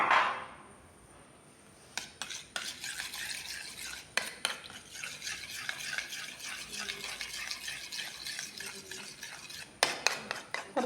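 A spoon stirring a homemade vitamin E cream for dark circles in a small container: repeated soft scraping and clicking strokes in an irregular rhythm, close and fairly quiet, after a brief quieter pause at the start.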